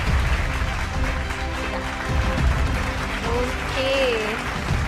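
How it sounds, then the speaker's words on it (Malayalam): Audience applause at the Super Sundhari stage show as Afrin is welcomed, a steady broadband wash of clapping throughout, with a voice speaking over it near the end. "നല്ലൊരു കയ്യടി നൽകിക്കൊണ്ട് നമുക്ക് അഫ്രീനെ വേദിയിലേക്ക് സ്വാഗതം ചെയ്യാം"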